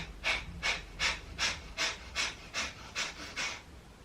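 Deep, rhythmic breaths during a yoga belly-breathing exercise: nine short, forceful exhales drawing the belly in, evenly spaced about every half second, close and clear with no talk.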